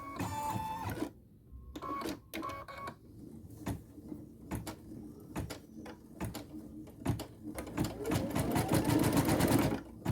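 Sewing machine stitching pieces for a Star of Bethlehem nativity set in short bursts of rapid mechanical clatter separated by pauses, ending in a longer louder run.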